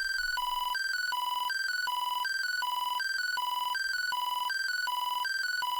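A shrill synth lead made in FL Studio repeats a short, piercing high-pitched melodic pattern in a steady loop, loud and uniform, like an insistent ringtone, for almost six seconds.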